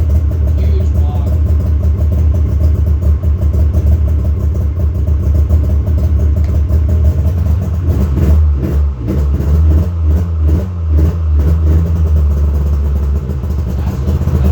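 Snowmobile engine cold-starting on choke, running loud and continuous close by with a low rumbling idle that rises into uneven revving in the second half.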